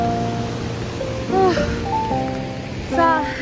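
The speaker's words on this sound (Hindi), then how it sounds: "ये बारिश सुबह से हो रही है" Heavy rain pours steadily outdoors along the route to Kedarnath temple, a dense close hiss throughout, with tonal whistles and tones rising briefly above it.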